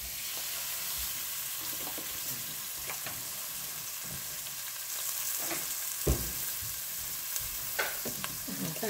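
Chopped onion fries in mustard oil and ghee in a pot, sizzling steadily up close while a spoon scrapes and stirs with irregular knocks.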